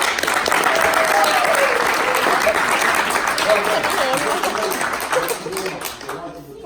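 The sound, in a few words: applause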